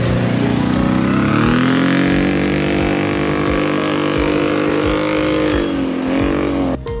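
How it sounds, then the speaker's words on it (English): Quad bikes on a dusty hiking trail near Jerusalem, heard as a loud, close engine drone whose pitch rises and falls as they pass, with rhythmic low thumps underneath. "I'm not so much a fan of the quad bikes. I know people are just having fun, but they're loud and they get dust everywhere."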